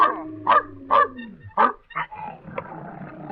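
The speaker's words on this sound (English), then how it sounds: "Where's that dog?" A dog barks near an elevator, several loud close barks in an uneven rhythm followed by softer yips and a whimpering tail-off, with no speech.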